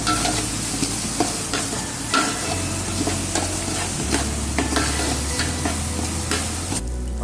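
Kashmiri red chilli masala being stirred into chicken korma in a pot, with a steady scraping stir over continuous close sizzling and frying, a few sharper clinks of the spoon against the metal, and no talk.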